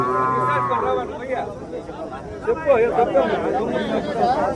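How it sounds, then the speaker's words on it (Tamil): Cattle and calves at a busy livestock market in Chintamani, Karnataka, lowing and mooing loudly nearby while a crowd chatters and people talk throughout. "கன்றுங்க இருக்கு பாருங்க நிறைய வளர்ப்பு கன்றுங்க இந்த வாரம் நிறைய வந்திருக்கு"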